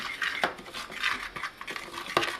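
Oreo baking crumbs stirred in a bowl, giving a series of close, irregular scraping and clinking taps of a utensil against the dish with no voices.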